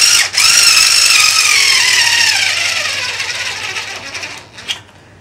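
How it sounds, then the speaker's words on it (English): Cheap 3.6 volt American Tool Exchange power screwdriver driving a short screw into a 2x4, a high whirring motor whine that gradually slows and labors, then stops with a brief click, no talk. "This is as far as it'll drive a screw into a 2x4."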